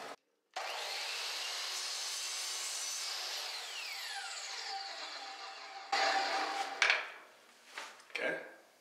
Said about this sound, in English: So I'm just going to put the saw on a flat miter.